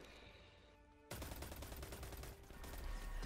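Sustained automatic gunfire in Destiny 2's Warmind campaign, a steady rattling stream of shots starting abruptly and continuing loud and close with no talk over it.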